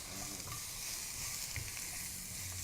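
Beef, onion and red pepper stir-frying in a pan, a dense continuous sizzle with scraping and stirring noises throughout, heard up close.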